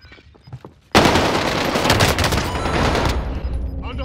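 Sudden burst of rapid automatic gunfire in Call of Duty Warzone, loud and close, a dense volley lasting about two seconds before cutting off, with quieter sounds before and after.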